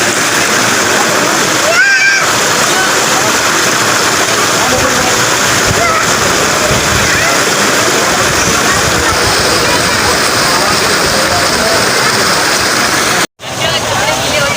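Slightly muddy flowing water at the Shahdara picnic point rushes in a loud, steady wash with no breaks.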